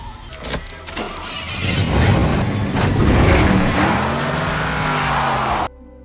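An old classic car drives off, its engine rising into a loud sustained roar after a few quick knocks, then cutting abruptly near the end; no one speaks.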